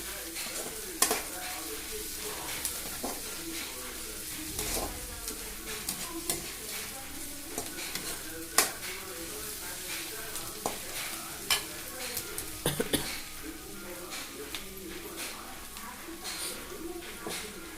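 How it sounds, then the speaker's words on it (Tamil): Onions sizzle steadily in a pan while being sautéed for kozhukattai, a spoon scraping and tapping the pan in scattered clicks throughout, with a voice talking over the frying. "நல்லா வெங்காயம் நல்லா வதங்குற வரைக்கும் நல்லா வதக்கிக்கணும்"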